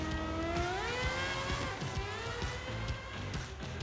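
In Forza Horizon 5, a GMA T.50 in boost mode revs hard through rising gears, its high-pitched engine note climbing steadily and loud with sharp shift blips, heard alone for a few seconds.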